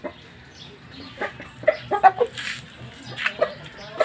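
A large, tall rooster kept as a breeding cock clucks and calls in short, close bursts, mixed with other fowl sounds on a farm.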